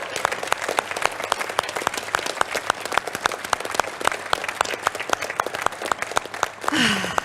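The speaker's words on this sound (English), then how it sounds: "I think a big round of applause to everybody." A crowd claps in enthusiastic applause after a winner presentation at the EU Blockathon 2018 hackathon, with dense, rapid, steady hand claps at close range filling the whole stretch and a brief shout near the end.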